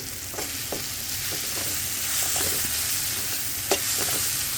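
Tomatoes for a pachadi chutney sizzle and cook in a pan on the stove, a soft steady frying hiss with a few faint clicks of stirring.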